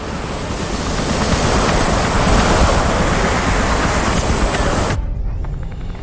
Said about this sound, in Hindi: एजेंट 47 अब हेलीकॉप्टर में बैठकर निकल चुका है अपने अगले मिशन के लिए